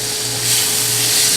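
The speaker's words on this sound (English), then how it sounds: "we're going to turn these steaks now" Steaks sizzle loudly in a hot pan as they are turned, a dense hissing crackle that swells midway and holds steady to the end, with no voices over it.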